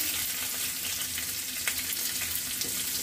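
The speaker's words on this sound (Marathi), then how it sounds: "दोन चमचे तेल घेतलेलं आहे आता आपण त्यामध्ये थोडीशी जिरी मोहरी टाकूया कढीपत्ता टाकूया हिरवी मिरची" Cumin, mustard seeds, curry leaves and green chilli sizzle in two spoonfuls of hot oil in a pan, a close, constant frying hiss with a few light pops and no talking.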